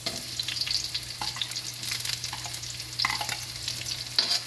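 Onions sautéing in a pan with golden-browned garlic for pork binagoongan, a steady close sizzle with occasional scraping stirs and a low hum underneath, no talking.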